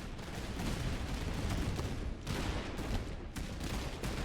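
Dense battlefield gunfire from the video game Master of Command, with cannon and musket volleys overlapping in a constant loud roar and sharper bursts rising throughout.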